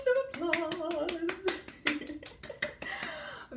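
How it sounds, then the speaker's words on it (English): A few claps of hands during a children's piano lesson, sharp separate bursts mixed with a child's and an adult's voices talking over them. "Round of applause."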